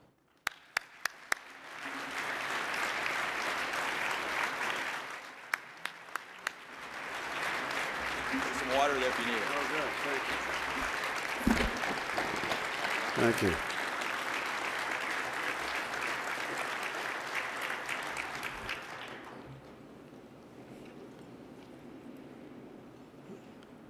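Warm applause from a fundraising dinner audience greeting a speaker, a dense steady roar of clapping lasting most of the span before dropping away, with brief voices speaking over it near the middle and a quieter tail.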